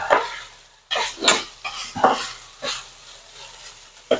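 Carrots sautéed in a pan, with bursts of sizzling and scraping as a utensil stirs them in irregular strokes, close and fairly loud.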